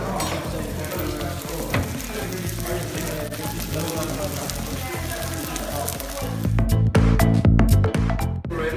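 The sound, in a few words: chicken frying in a pan at a cooking class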